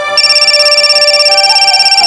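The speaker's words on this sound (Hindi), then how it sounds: "आ गया फोन दामाद जी का, जा।" A telephone ringtone chimes loudly and steadily in a fast, pulsing electronic pattern, close and alone without any voices.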